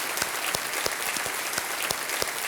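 Dense studio audience applause on a Hindi TV quiz show as ten new contestants are welcomed, sustained rapid clapping with sharp individual claps close by.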